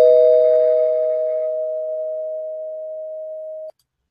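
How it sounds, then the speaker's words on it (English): A spoiler bell sound effect rings once, a clear bright strike followed by a long steady tone that slowly fades before cutting off after several seconds, heard alone. "So big ring of the spoiler bell"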